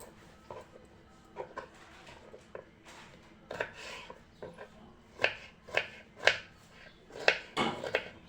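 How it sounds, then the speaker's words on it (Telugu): Snake gourd being chopped into pieces on a board, quiet irregular knife taps and clicks that speed up into a denser run of sharper chops toward the end. "ఇలా పీసెస్గా తరుక్కోవాలి."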